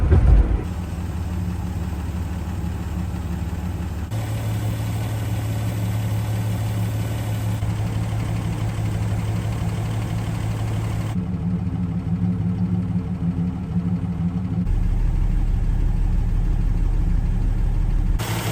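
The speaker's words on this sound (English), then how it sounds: "The 225 Slant Six under the hood is the soul of this car." A 1973 Plymouth Scamp's 225 Slant Six engine idles steadily with a continuous low rumble and hum, heard close and unbroken throughout with slight shifts in tone.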